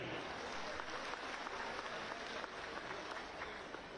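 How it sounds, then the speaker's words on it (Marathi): An audience at a Savitribai Phule birth anniversary and women's liberation day ceremony applauds, a sustained, dense clapping that holds steady for the whole stretch. "एकदा जोरदार टाळी त्यांच्यासाठी."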